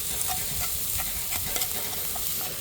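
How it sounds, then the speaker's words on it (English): Ground beef sizzles and crackles steadily in a hot pan over a campfire, a dense continuous frying hiss with small pops, close up and with no talking. "Listen to that sizzle, guys."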